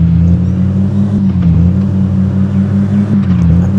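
A KIA car's engine drones and revs steadily in an offroad driving video game, a loud, continuous low hum with slight pitch wavering, heard alone without talk.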